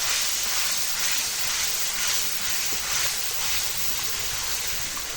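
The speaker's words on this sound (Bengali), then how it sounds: "এখন পুরো কষিয়ে নেব এটা" Spices, including nigella seeds, sizzle hard in hot oil in a pan for a Bengali potol recipe, producing a loud, steady, hissing fry that continues without a break.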